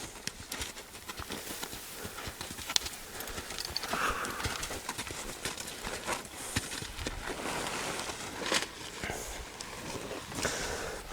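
Horse hooves clip-clop at a walk over firm, rough desert ground, a steady close rhythm of hoofbeats with a little background noise.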